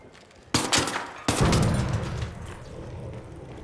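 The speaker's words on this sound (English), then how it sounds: "I think this gun might be a semi-auto." Semi-automatic gunfire in Arc Raiders, two sharp loud shots about a second apart, each followed by a long rumbling tail that slowly fades.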